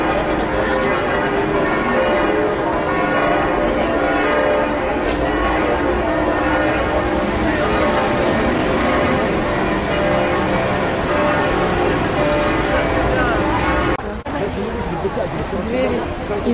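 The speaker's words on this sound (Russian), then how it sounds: "Мы слышим звон колоколов." Bells of Notre-Dame de Paris ringing loudly and continuously, layered tolling tones over crowd chatter outside the cathedral, with people talking nearby.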